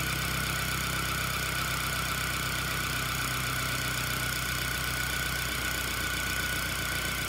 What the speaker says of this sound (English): Pull on the handle to lower the drum at a controlled speed.